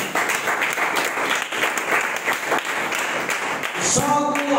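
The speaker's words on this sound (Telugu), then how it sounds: "చప్పట్లు దేవుడమా." A church congregation applauds during a sermon, steady crowded clapping that fills the room, followed by a short burst of keyboard or musical tones at the very end.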